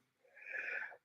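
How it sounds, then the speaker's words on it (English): A single close, breathy sneeze builds over about half a second and then stops sharply, followed by a short vocal sound. "Excuse me, I gotta sneeze."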